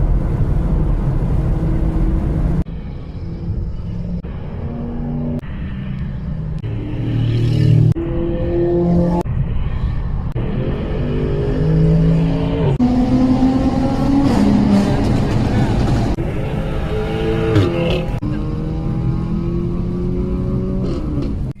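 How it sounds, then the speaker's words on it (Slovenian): Lexus LC 500h held at full throttle, a steady loud engine roar with rising and stepping pitch sweeps as it revs and shifts, continuous and close throughout. "Jaz zdaj držim gas do konca."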